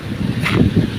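Strong wind buffets the microphone on a small fishing boat at sea off Palawan, a loud rushing roar with low gusting rumble and no voices.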